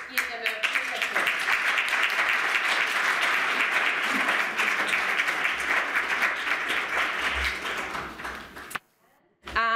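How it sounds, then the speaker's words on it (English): An audience at an expert panel session claps for the panelists, dense sustained applause for several seconds before cutting off abruptly. "Let's give them a big applause."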